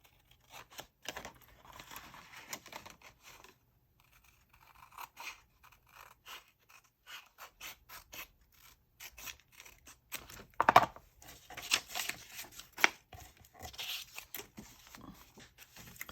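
Paper being cut with scissors for a handmade gratitude journal kit, a quiet run of short snips and crinkly scrapes that comes in bursts with pauses, close and soft, with no one talking.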